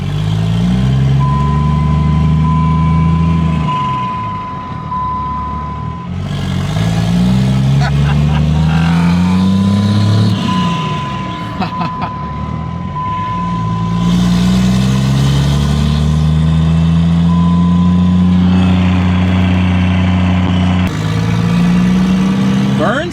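A dually pickup truck with new injectors on its first drive: a loud engine hums and rises through repeated accelerations and gear changes, with a steady whine and people talking inside the cab over the engine.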